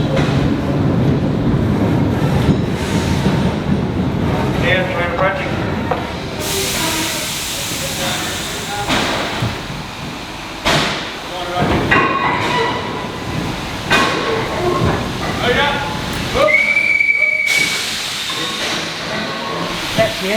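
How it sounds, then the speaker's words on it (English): A steam locomotive rolls slowly into a railway museum workshop shed, its hissing steam and rumbling movement filling the space, with one brief whistle blast near the end; people talk nearby. "I might just quickly get some video of the train coming in."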